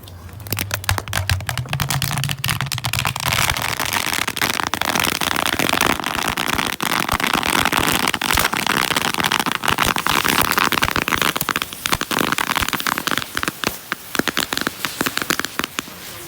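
Firecrackers and bangers from four boxes set off together inside a plastic water gallon jug, a loud, dense barrage of sharp crackling bursts running continuously for the whole stretch, with no talking.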